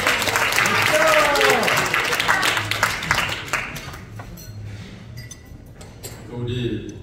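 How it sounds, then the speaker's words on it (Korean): A crowd at an alumni association gathering with invited singers gives warm applause for a donor. Dense clapping fills the first few seconds, then fades to scattered claps while someone speaks into a microphone. "뜨거운 박수"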